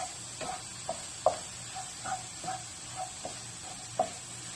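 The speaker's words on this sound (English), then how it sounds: "we want to mix this in until that flour soaks up all that juice and has cooked for a few seconds" Flour is stirred into sizzling onion and mushroom pan juices for Salisbury steak, with a soft steady sizzle under a series of light spoon clicks and scrapes spaced about half a second apart.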